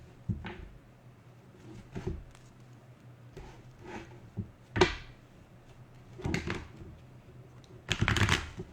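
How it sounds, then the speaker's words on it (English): Tarot cards being shuffled by hand in several short bursts of riffling and tapping, close by in a quiet room, with pauses between. "I'm going to shuffle first."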